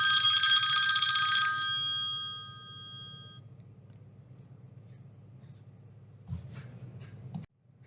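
A telephone ringing indoors in a classroom or lecture setting, a loud repeated electronic ring for about a second and a half that quickly fades out, followed by a low room hum and a faint brief knock.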